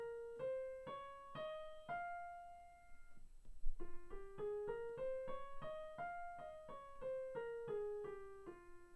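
Solo piano plays a natural minor scale on white keys one note at a time, stepping up evenly, then coming back down after a short pause. Clear, ringing notes with no voices.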